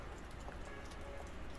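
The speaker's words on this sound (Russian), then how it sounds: "вчера шел с вечера дождь и не перестает" Steady rain falls outside in a dense, even hiss with faint droplet patter and no voices.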